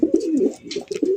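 A male fancy pigeon coos close by, a short run of low throaty burbling notes with a brief pause, loud and alone without talk.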